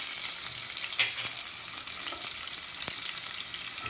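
Dried Bombay duck and field beans fry in a pan with turmeric, giving a steady, moderately loud sizzle with a few faint stirring clicks, and no one talks.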